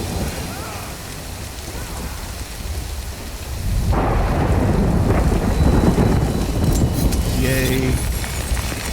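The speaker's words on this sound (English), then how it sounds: "Good thing it was raining." Rain falls steadily in the Death Stranding game world, then rumbling thunder swells in and a heavier downpour takes over, loud and continuous, with a brief tonal game sound near the end.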